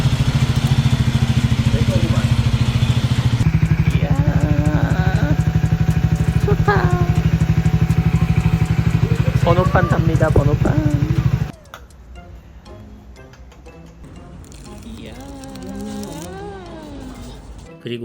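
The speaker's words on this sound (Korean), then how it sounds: "드디어 내 바이크 시동 걸었다" A Triumph 400 series motorcycle engine idles loudly and steadily up close with a deep rumbling drone, then cuts off abruptly, leaving quieter background sound; people talk over it.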